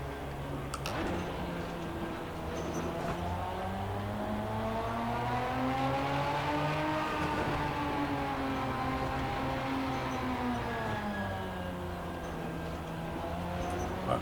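An Aston Martin DBR9 GT race car in a driving game, lapping Mount Panorama at Bathurst, its engine droning steadily with rising and falling revs through gear changes, continuous and fairly even in level.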